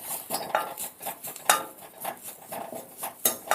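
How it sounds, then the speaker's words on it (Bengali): Curry leaves dry-roasting in an empty wok without oil, stirred with a metal utensil: repeated close scraping and clanking strokes in an irregular rhythm, with a faint dry crackle underneath. "খালি কড়াইয়ের মধ্যে কারি পাতাটাকে আমি ভেজে নেব।"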